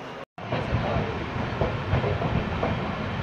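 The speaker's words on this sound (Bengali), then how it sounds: "ট্রেন এখন মুর্শিদাবাদ জংশন ছেড়ে দিল।" Express train pulling out of Murshidabad Junction on its first commercial run, a steady rumbling roll with faint rhythmic wheel clicks, loud and close, after a brief dropout at the start.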